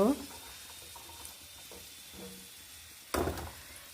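Whole-egg chops deep frying in plenty of oil, a faint crackling sizzle with a few light stirring clinks, punctuated by a short louder burst of bubbling near the end.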